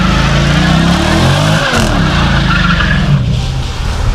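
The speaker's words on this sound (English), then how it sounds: "Oh snap, he over there drifting it." A car, apparently a powerful V8 muscle car, drifts in a parking lot, its tires squealing loudly over a revving engine that rises and falls. The sound is close and continuous.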